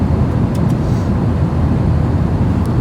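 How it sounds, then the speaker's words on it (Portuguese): Constant low roar of an airliner cabin in flight, a steady broadband rumble with no talking. "Esse é o ruído do avião"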